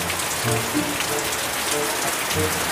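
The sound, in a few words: rain falling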